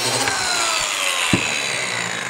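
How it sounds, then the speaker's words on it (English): A biscuit joiner cuts a groove in wood, a steady, loud whining rasp that runs without pause for a couple of seconds, close by, with one brief knock partway through. "what I do have is this biscuit joiner that I use like trimming and assembling things"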